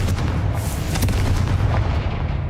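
A Confringo blasting spell in Hogwarts Legacy explodes with a loud, booming detonation, a heavy, dense roar with sharp crackling bursts that continues throughout.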